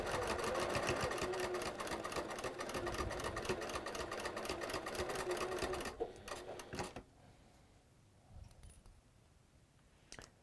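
A sewing machine stitches fabric in a steady, fast, loud mechanical whir for about six seconds, then stops, leaving a few soft clicks and handling sounds in a quiet room.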